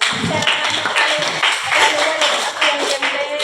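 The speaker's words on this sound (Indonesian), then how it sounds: "Jadi untuk yang juara 1 dengan nilai yang tertinggi diraih oleh Jessica, tepuk tangan." An audience clapping for a first-place winner at a small school event, a short burst of brisk applause from a group, with voices talking over it.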